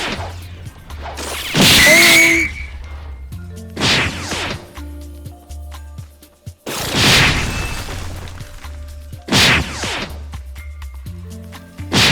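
A cannon move from the Roblox Blox Fruits game booms out in several separate heavy blasts, each a loud smashing impact with a whooshing tail, spaced apart by quieter gaps.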